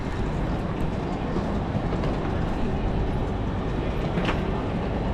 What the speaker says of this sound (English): So we're up by the train now, on the platform.